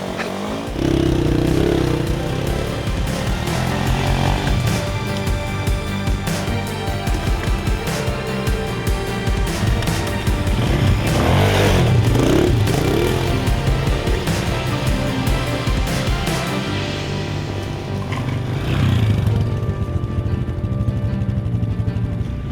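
A motorcycle working over rough, wet ground, its engine droning steadily and loudly throughout with rises in revs and clattering, scraping bumps.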